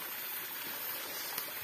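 A stream flows during a hike on Bukit Sipatir in Brunei, producing a soft, continuous rushing wash of water heard from a short distance, fairly faint and without talk.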